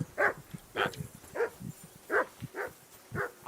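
A dog in the video game Kingdom Come: Deliverance 2 barks repeatedly in a steady rhythm, about two short barks a second, fairly close and clear with no talk over it.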